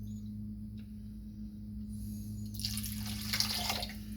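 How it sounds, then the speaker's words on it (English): Apple cider vinegar poured into a pork loin marinade, a soft liquid trickle that starts quietly and swells into a steady splashing pour near the mic, over a low constant hum. "we're going to add in a 1/2 cup, which is a 1/2 cup of apple cider vinegar"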